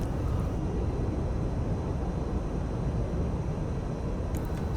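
An F-86F Sabre jet in the DCS flight simulator gives a continuous low roar of engine and airflow with an even, unbroken texture throughout. Near the end a few faint clicks sit on top of the roar.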